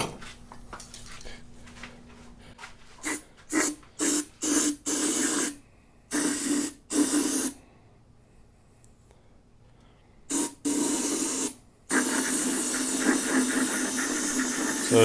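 Electrical contact cleaner hisses from an aerosol can into the fuel tank bowl of a Briggs & Stratton engine on an old McLane reel mower, coming in short loud bursts and then one long continuous spray, close up, with no talk.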